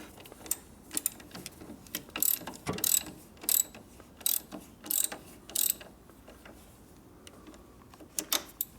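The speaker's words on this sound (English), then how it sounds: "pull the ratchet out" Ratchet wrench clicking during repair work on a 2004 Harley-Davidson Fatboy FLSTF Softail, heard as several short bursts of rapid ratcheting spread through the clip at moderate level, with quieter mechanical ticking between them.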